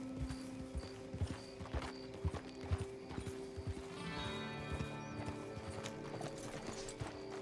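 Horse hooves clip-clop in a quick, uneven rhythm over steady tonal background music in the video game Red Dead Online, with a brief rising whinny-like tone partway through.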